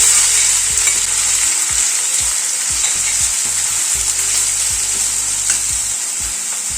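Finely chopped onions fry on a medium gas flame for chole bhature, a loud continuous sizzle close up, with repeated scraping strokes of a spoon stirring through the pan.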